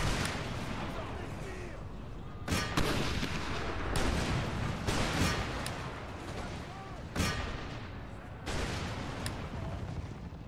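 Musket volleys and cannon fire in the strategy game Empire: Total War, a continuous battlefield din broken by repeated sharp loud blasts at irregular intervals, with someone talking over the noise.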